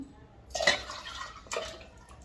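Fruit tips into a container along with its soaking water, giving two short close splashes and pours, faint and brief, over low background noise.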